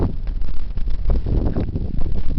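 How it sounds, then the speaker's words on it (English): Heavy wind buffets an outdoor microphone in a loud, steady low roar with gusty surges, no voices. "Wasn't expecting it to get this windy."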